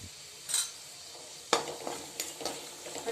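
Green chillies and garlic frying in a pan with hing and turmeric: a soft, steady sizzle close by, broken by a few clinks and scrapes of stirring.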